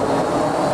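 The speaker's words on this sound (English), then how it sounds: "Airplane." An airplane passes overhead as a steady, fairly loud broadband roar that holds evenly through the brief moment, with no talking.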